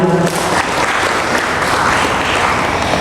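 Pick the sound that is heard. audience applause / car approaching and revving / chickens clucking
audience applause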